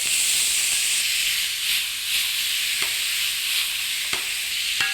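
Pork with soy sauce and garlic scapes is stir-fried in a hot pan, a loud, steady hiss and sizzle broken by a few sharp utensil clicks.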